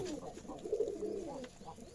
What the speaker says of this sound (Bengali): হুমা ও রেসার কবুতরের মধ্যে কি পার্থক্য